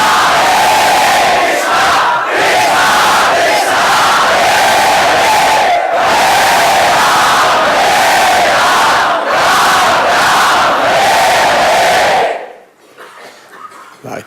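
Many voices chant the holy names in unison, a dense, loud, pulsing swell of group devotional chanting that carries for about twelve seconds before cutting off suddenly to quiet.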